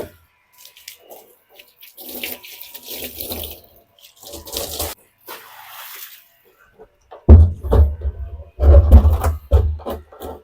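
Water sprays in loud, close, intermittent bursts as a chicken room is washed down, with short quiet gaps between the gushes and heavier spraying toward the end.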